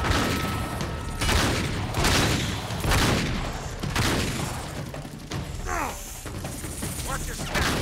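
Uncharted 3: Drake's Deception on PS4 sends out rapid bursts of gunfire and heavy thuds in an ongoing firefight, loud and dense throughout, mixed with mechanical clatter.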